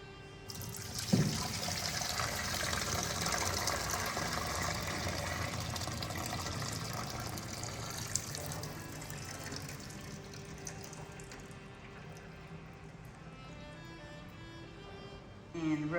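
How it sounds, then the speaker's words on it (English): Boiling water pours out of a pot in a continuous rushing splash that gradually thins to a trickle and drips, with a faint clunk near the start. "We are going to throw this water off."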